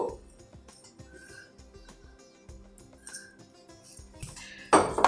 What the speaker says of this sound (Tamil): நல்லா இந்த சீஸையும் சேர்த்து மிக்ஸ் பண்ணிவிடுங்க.